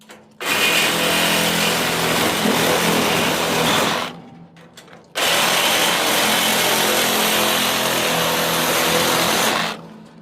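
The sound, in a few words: angle grinder with cutting disc cutting a metal crate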